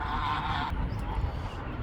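Geese honk loudly and close by for under a second, a dense burst of nasal calls that breaks off into softer background noise.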